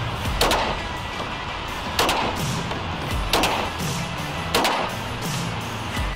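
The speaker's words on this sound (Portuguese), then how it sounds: "Vamos dar uns disparos e ver o funcionamento da munição." Four loud, sharp gunshots ring out at roughly even intervals, each firing a round of new Polymatch training ammunition during a pre-launch test event, with a short decay after each report and no talk between them.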